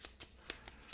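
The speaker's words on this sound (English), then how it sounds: "Make sure we shuffle that back in correctly." Fish cards for the Finspan board game are riffle-shuffled in soft, rapid papery bursts, about five quick flutters within a second, faint and close with no talking.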